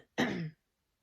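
One short, harsh throat clearing with a cough-like burst, close and alone, from someone with a lingering cough since COVID.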